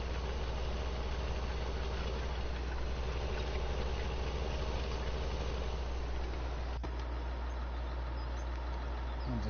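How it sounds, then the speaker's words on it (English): Tractor engine idling in Farming Simulator 17, a constant loud low-pitched diesel drone that runs evenly throughout with no voices. "I'll just leave that tractor running."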